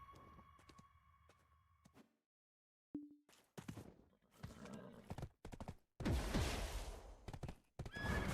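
A horse in the video game Black Desert neighs loudly, then its hooves clip-clop in bursts of trotting, alongside a few other short game sound effects, with no talk.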